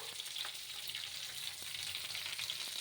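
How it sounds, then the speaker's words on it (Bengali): Steady crackling sizzle of washed fish frying in hot oil in a pan, continuous and close, with faint clicks of a utensil now and then. "মাছগুলো ভালো করে ধুয়ে এই যে ভাজা করছি"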